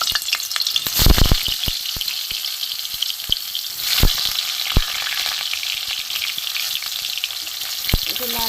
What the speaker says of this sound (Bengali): এখানে দেখুন এই পটল গোল করে কাটা আছে, আমি প্রথমে ভেজে নেব।